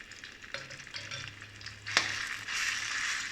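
Pounded aromatics for shrimp stir-fried with shrimp paste sizzle and crackle in hot oil in a pan while a utensil scrapes and stirs, with a sharp clank midway before the frying grows louder.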